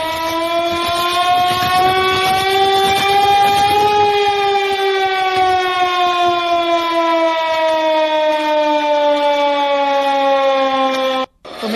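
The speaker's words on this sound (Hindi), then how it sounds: "मेरठ में हवाई हमले की चेतावनी देने वाले सायरन की मॉक ड्रिल की गई।" An air raid warning siren sounds during a mock drill in Meerut, its loud wailing tone rising slightly and then slowly sinking over a long, sustained blast before cutting off abruptly.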